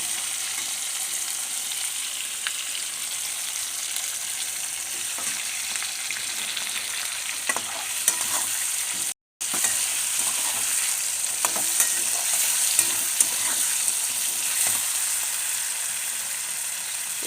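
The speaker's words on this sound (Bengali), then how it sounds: "টমেটোটা দিয়ে একটু কষানোর মতন হবে। টমেটোটা ছেড়ে দিলাম।" Chopped tomato sautéing with onion in a pan while being stirred: continuous bright sizzle with scraping stir strokes, close and fairly loud, briefly cutting out for a moment midway.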